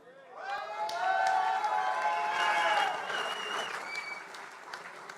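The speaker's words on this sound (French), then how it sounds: "vous pouvez l'applaudir" Audience at a French festival awards ceremony breaks into loud, sustained applause that swells quickly, holds steady, then slowly tapers off, with some cheering mixed in.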